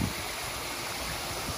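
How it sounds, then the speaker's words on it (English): A backyard pool waterfall in Florida, a steady, soft rush of falling and splashing water with a continuous even texture, moderately quiet and close, with no voices. "Look at the waterfall in the pool."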